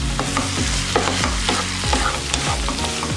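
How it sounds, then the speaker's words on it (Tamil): Chopped potatoes sauté in hot oil for tomato kurma, a loud continuous sizzle with regular scraping strokes of a spoon stirring the pan, close and without any voices. "உருளைக்கிழங்க பொடி பண்ணி வச்சுருக்கேன் அதையும் அப்படி எண்ணெயிலேயே நம்ம வதக்கிக்கலாம்"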